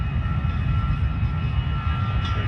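A Brussels Airlines Airbus A320 in Smurfs livery roars on departure from Manchester Airport, a loud, steady, rumbling jet engine noise that fills the whole moment without any talk.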